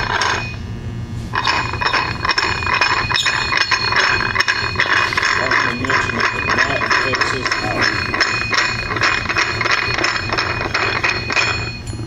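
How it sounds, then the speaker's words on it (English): A socket ratchet turns to screw a threaded wheel onto a manhole assembly, giving steady close-up metallic ratcheting and gear clicks that run continuously for about twelve seconds with no talk. "You'll need a 9/16 socket and a ratchet."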